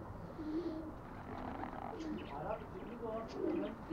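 Soft pigeon cooing, a few low throaty calls repeating, with faint voices and background noise around them.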